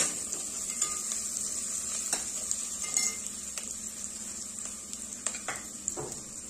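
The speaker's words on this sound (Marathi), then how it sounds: "यामध्येच आपण घालणार आहोत खोबऱ्याचे काप आणि शेंगदाणे। हे देखील व्यवस्थित परतून घ्यायचे।" Coconut slices and peanuts sautéing in a pan, a steady close sizzle broken by light scrapes and clicks of a spoon stirring against the metal.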